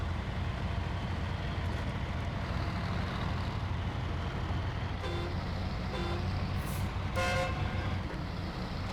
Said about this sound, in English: I'll put a car horn on this